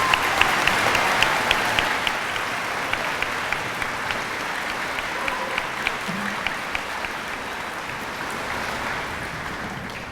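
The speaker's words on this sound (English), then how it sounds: "please give them a round of applause" An audience at a commemorative walk event claps in sustained, even applause that lasts the whole stretch, with individual claps standing out near the start and a faint murmur of crowd voices beneath.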